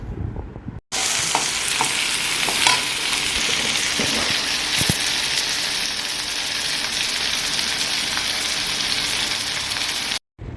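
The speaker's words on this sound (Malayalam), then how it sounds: "അപ്പോൾ ഇതെല്ലാം എണ്ണയിൽ കിടന്ന് നല്ലപോലെ വഴന്നു വന്നിട്ടുണ്ട്" Vegetables sauté in oil for a stew, producing a loud, continuous hissing sizzle much like heavy rain, with occasional spatters and stirring scrapes, briefly cut by silence at both ends.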